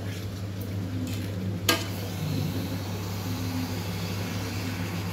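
Chicken stirred and fried with spices in a pan, a steady low sizzle throughout with soft scraping and one sharp clink of the utensil against the pot.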